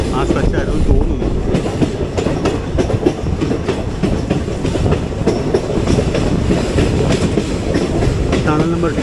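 The 11098 Ernakulam Pune Poorna Express rolls steadily along the track through a hilly stretch near Dudhsagar Falls, with loud continuous wheel rumble and rhythmic clickety-clack over rail joints close at hand.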